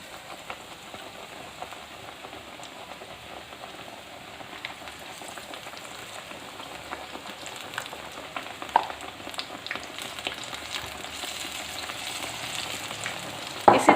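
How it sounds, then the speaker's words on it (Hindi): Gram flour battered eggplant slices deep frying in oil give a steady, moderately quiet sizzle throughout, with faint crackles and a few sharper pops toward the end; no one speaks. "ये देखें अब मैं बैंगन फ्राई करने लगी।"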